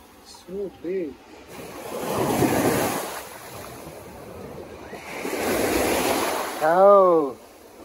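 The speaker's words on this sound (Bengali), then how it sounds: "সাগরের গর্জন আছে মোটামুটি ভালোই" Roaring surf surges in two long swells at a small island beach in Kedah, Malaysia, loud and close with wind buffeting the microphone; brief voices sound between and after the waves.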